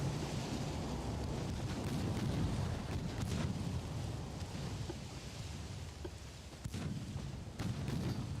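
Naval gunfire booms from warships in a battleship engagement in Ultimate Admiral: Dreadnoughts, a continuous rumbling wash of distant cannon reports with a few sharper cracks standing out, no voices over it.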